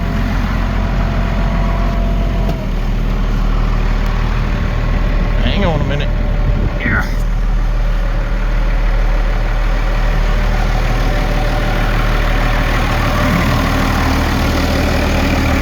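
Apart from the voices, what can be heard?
tractor engine idling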